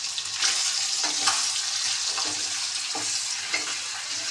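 Food fries in a pan at home, a bright steady sizzle with occasional louder crackles and stirring scrapes, close and continuous with no speech.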